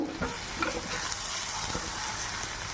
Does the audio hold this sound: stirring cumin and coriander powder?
yes